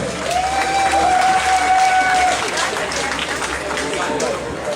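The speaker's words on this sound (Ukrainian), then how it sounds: "Оплески!" A concert audience applauds and cheers as a folk variety-dance ensemble is introduced at a student festival; dense clapping runs throughout, with a sustained whistle early on and crowd noise underneath.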